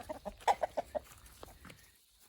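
Chickens treated for mites cluck in their pen, a run of short, close clucks in a quick uneven rhythm that fades into quieter calls and then falls silent.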